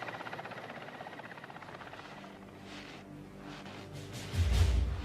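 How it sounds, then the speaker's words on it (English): A helicopter flies back to refuel over snowy tiger country, its rotor chop a steady, moderately distant thrum that swells louder and nearer in the final second. "The helicopter races back to refuel."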